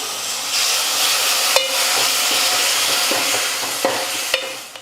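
Mashed tomato paste sizzles in a hot pan for milagu rasam, a steady close frying hiss broken by a few light knocks and scrapes of a spoon stirring.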